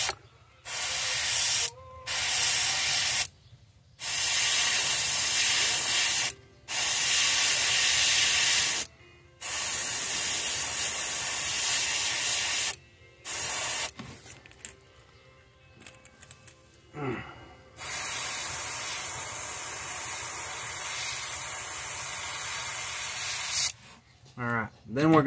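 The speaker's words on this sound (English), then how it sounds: "we're going to spray a little bit more just to darken it up" An airbrush sprays paint onto a bluegill fish lure in repeated hissing bursts of a few seconds each, separated by short pauses, close and steady, followed by a longer continuous spray.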